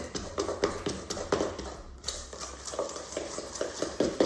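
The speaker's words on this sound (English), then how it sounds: "Give it a good quick stir." Spoon stirring rice flour Madeira cake batter in a bowl, quick repeated tapping and scraping strokes in a steady rhythm, close and fairly quiet, with no voices.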